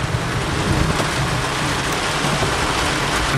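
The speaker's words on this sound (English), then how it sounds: "The problem is there must be a very heavy rain right in front of me" Heavy rain during a Florida thunderstorm roars as a dense, steady hiss, close and loud throughout with no break.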